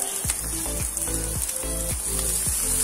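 Carrots go into vegetables already frying in a pan, adding a few soft thuds and clatters over a steady, moderate sizzle, with no one talking.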